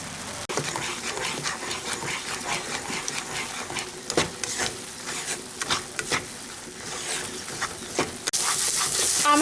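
A spoon repeatedly scrapes and stirs a drying soybean paste mixture in a pan over a medium flame, producing irregular scraping strokes over a faint, steady sizzle.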